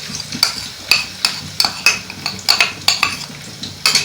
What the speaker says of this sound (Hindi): अदरक लहसुन का पेस्ट हमने डाल दिया और मिक्स कर रहे हैं